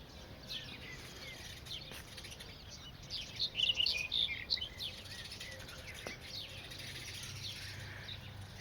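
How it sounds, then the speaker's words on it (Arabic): Sparrows chirp at dawn on a farm, faint and steady at a distance, with a brief livelier burst of high calls near the middle over a soft outdoor hush. "وأصوات العصافير"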